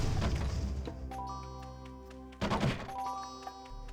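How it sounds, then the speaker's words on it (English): Bomb explosions in the video game Kao the Kangaroo: two heavy, booming thuds a couple of seconds apart, each followed by ringing game music tones, loud and close with no talk. "Whoa, okay, explosions. Beware of bombs."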